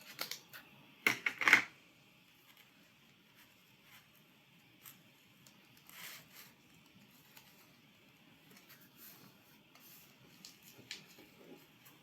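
Scissors snipping through a paper mailing envelope for a junk journal cover, a few crisp cuts close by at the start, then quieter rustles and light handling sounds.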